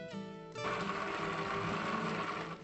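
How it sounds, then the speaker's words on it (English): An electric blender whirs up to full speed mixing ricotta gnocchi dough with flour, egg yolk and herbs, a loud steady motor drone close by after a brief lower hum. "I put all the ingredients into the blender"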